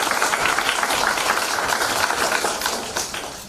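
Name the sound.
audience applause at award ceremony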